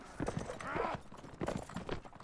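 Galloping hooves from a horse in the Mount & Blade Warband video game clatter in quick irregular bursts, moderately loud and close, with a brief whinny-like tone midway.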